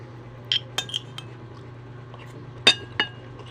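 Cutlery clinking against dishes and glass during a lunch of fried tilapia and dried fish, with a few sharp, isolated clinks over a low steady hum and no speech.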